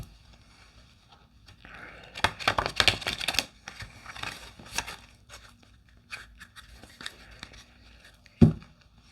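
Old English Tarot cards riffle and shuffle in short, crisp bursts with pauses between, close up, ending with a single louder thump.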